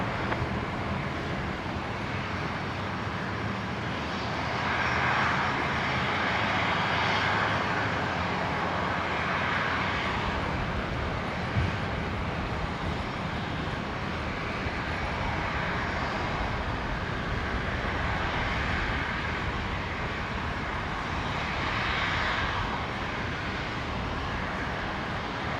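A Virgin Australia aircraft takes off from runway 19 at Brisbane airport, its engines a broad, sustained roar with wind-like rushing, steady and moderately loud throughout.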